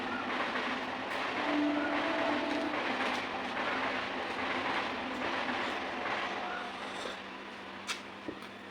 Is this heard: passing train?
yes